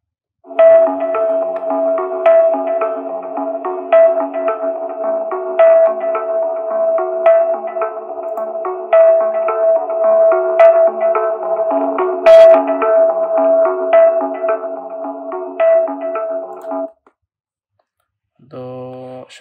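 Music plays steadily from a small TablePro MG2 Bluetooth speaker for about seventeen seconds with a bright, clear melody, then stops; a brief tone follows after a pause.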